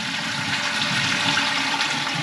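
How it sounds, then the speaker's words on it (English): A toilet flushing after a repair to the outlet of its flush pipe, a loud and steady rush of water that runs through the whole stretch with no voices. "I've flushed it 5 or 6 times now"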